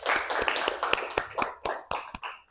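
A small group of schoolchildren clapping in a classroom, quick uneven claps in a loose rhythm for a couple of seconds, fairly faint and slightly distant, with no voices over it.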